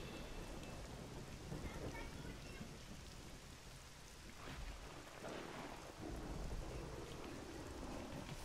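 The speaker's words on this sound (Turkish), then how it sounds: "Tufanla karaları yuttu ve gökyüzü bulutlarla ve azgın fırtınalarla örtüldü." Heavy rain pours steadily while thunder rolls and rumbles through a stormy scene in God of War 3 Remastered, a dense continuous downpour with low booming swells.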